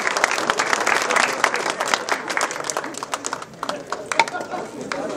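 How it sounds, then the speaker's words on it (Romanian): Audience applause and cheering at a Dynamite Fighting Show weigh-in in Targu Jiu, a dense, steady burst of clapping from a crowd that stays loud throughout, with scattered shouts and voices mixed in. "Hai cu un rând de aplauze!"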